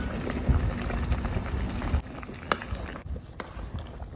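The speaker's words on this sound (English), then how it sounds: "mix it all in and let it boil for about 3 minutes or so" Pork sparerib soup with lemongrass paste bubbling at a steady boil in a pot on the stove, a close, continuous simmering hiss with a few faint clunks.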